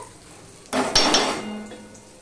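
Chopped onions are tipped into a pan of hot oil over tempered five-spice seeds, bursting into a loud, close hiss and crackle that fades slowly. A metal clink sounds just after the drop, and no one speaks.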